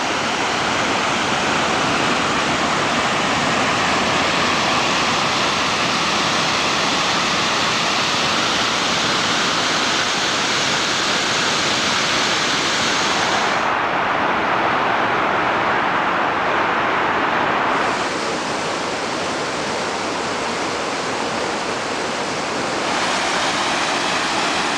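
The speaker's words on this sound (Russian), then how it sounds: "Мы заодно заехали на водопад Кивач." Kivach waterfall in Karelia, Russia, thunders continuously, a loud, dense rush of falling water that never lets up.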